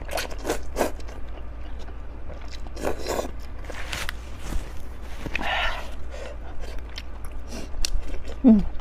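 Chewing on rice cake turkey noodles, with close, crisp irregular bites and soft mouth sounds spread through the clip, plus a brief voice near the end.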